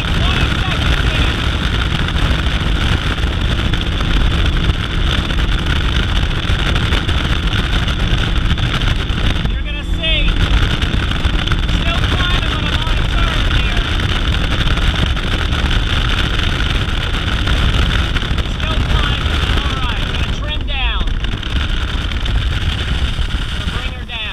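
A Falcon 205 bass boat with a 250 SHO outboard running at speed on open water, a loud, steady engine roar mixed with heavy wind buffeting on the microphone, with someone talking over it throughout.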